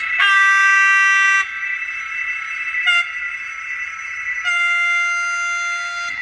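Loud electronic model train horns sound one after another, a long steady blast, a brief tone, then another sustained chord, close and clear with no talking.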